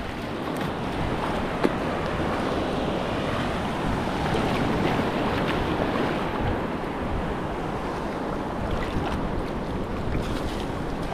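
Ocean waves wash continuously against the shore under gusty wind buffeting the microphone, a steady broad roar with no speech.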